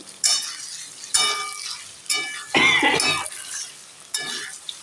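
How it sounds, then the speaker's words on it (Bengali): Potato and paneer curry with sauce being sautéed in a pan, giving close bursts of sizzling and stirring scrapes in separate pulses with short pauses, and no talking. "সসটা দিয়ে আমি কষে নেব"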